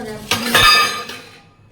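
Metal pots, pans and dishes clink and clatter against each other while being cleaned in a small home kitchen in Assam: a few close, bright knocks and rattles that ring out and fade.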